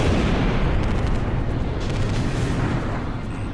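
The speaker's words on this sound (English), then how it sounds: "The captain's missile hit the target." Missile striking its target in Ace Combat 5: a loud, dense explosive roar that holds steady with deep rumbling and slowly fades over a few seconds.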